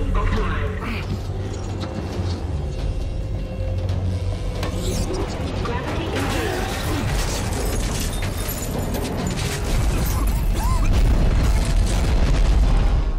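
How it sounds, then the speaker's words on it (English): Dense rumbling booms and bursts from explosions in Dead Space 3, layered with clattering effects and muffled game voices throughout. "Explosions."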